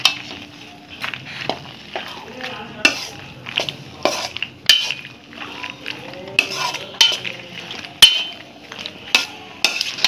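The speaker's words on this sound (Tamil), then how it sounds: "இப்போது இந்த எல்லா பாஸ்தாலையும் சாஸ் படுற மாதிரி நல்லா ஈவனாக மிக்ஸ் பண்ணி விட்டுக்கோங்க." Spoon stirring pasta through creamy white sauce in a wide pan, repeated scraping and clinking against the metal with soft sizzling, fairly close and continuous.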